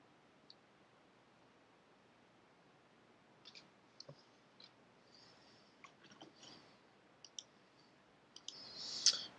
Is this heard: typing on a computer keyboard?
yes